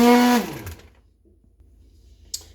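An electric whisk blends a banana smoothie with a loud motor whine that quickly winds down and stops. Near silence follows, then a single small clink.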